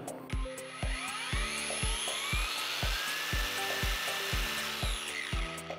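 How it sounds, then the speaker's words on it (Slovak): A Parkside PWSAP 20 cordless angle grinder spins up smoothly to full speed, giving a loud, steady high whine with repeated rhythmic clicking throughout. "mohol si vidieť plynulý nábeh do maximálnych otáčok"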